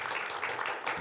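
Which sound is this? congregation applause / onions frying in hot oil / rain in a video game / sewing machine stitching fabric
congregation applause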